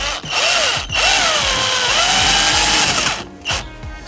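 A power drill-driver whirs in repeated bursts, spinning screws in to mount an Android head-unit radio in a 2011–2015 Kia Sportage, each run loud and close with short pauses between.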